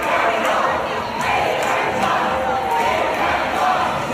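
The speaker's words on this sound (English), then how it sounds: "his entire crowd started chanting AIPAC lost" A crowd at an election night party chants together in loud, sustained unison, with rhythmic swells repeating about every half second and a dense roar of voices throughout.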